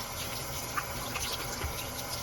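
Parts of a Pilot Metropolitan fountain pen are rinsed under a running tap, a steady close hiss of flowing water with small splashes as the pieces are moved through the stream.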